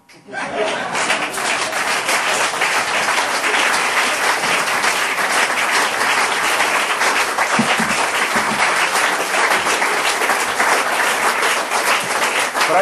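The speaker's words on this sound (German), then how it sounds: "begrüße mit einem herzlichen Applaus da auf der Bühne Tabea" Sustained, loud audience applause with dense clapping throughout, a few scattered chuckles mixed in, no speech over it.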